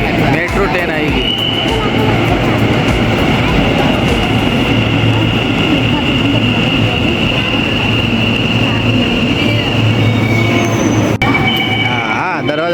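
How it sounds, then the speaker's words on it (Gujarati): A metro train arrives at Ranip station in Ahmedabad with a loud, sustained rumble, high-pitched wheel squeal and a rolling clatter that fill the platform before easing near the end. "આવી ગઈ મેટ્રો ટ્રેન આવી ગઈ."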